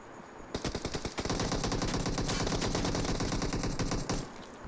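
Rapid automatic gunfire in a multiplayer shooter video game, a loud sustained burst of dense repeating shots after a few single cracks, filling most of the moment with no talk.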